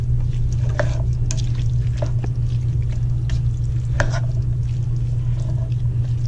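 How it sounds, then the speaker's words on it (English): Black and pinto beans stirred into a pot of taco soup, giving soft wet squishes and scraping spoon strokes over a steady low hum and sizzle, with a few sharper clinks along the way. "Stir it around."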